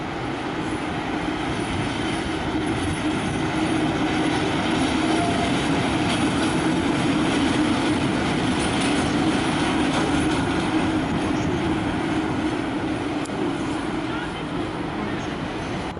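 A MAV class 431 electric locomotive moves through Budapest Keleti station with a train, giving a continuous loud rumble of wheels on rails with faint squeals and clicks that stays steady for the whole stretch.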